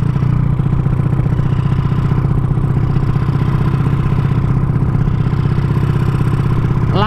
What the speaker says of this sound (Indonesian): Pakai knalpot saja dewe seperti apa suaranya nanti.